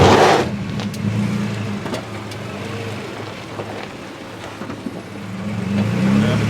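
A 2012 Nissan Frontier PRO4X, stuck off-road in two-wheel drive, rumbles loudly and steadily up close, and its engine swells toward the end as it is revved, with a noisy, rough wash over the drone.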